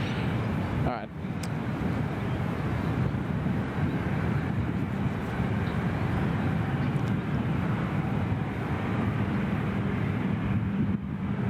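A Bombardier airliner at Gold Coast Airport, its engines producing a steady, loud broadband roar that fills the whole stretch with no words spoken.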